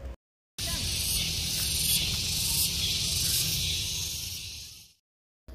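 Steady, loud high-pitched chirping from large crickets in open grounds with trees near a lake beside a hotel in Bandung, a continuous insect drone that fades out after a few seconds.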